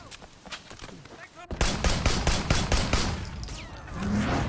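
Rapid bursts of gunfire crackle through a shootout in the Sleeping Dogs video game, dense and loud after a quieter opening, with a voice talking underneath.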